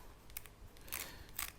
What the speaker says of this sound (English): With the kitchen scissors, it's going to be really easy to trim this over.